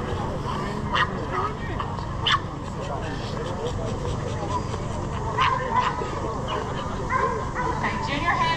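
A puppy at a dog show yips and whimpers in short bursts, close by, over steady crowd murmur and people talking nearby.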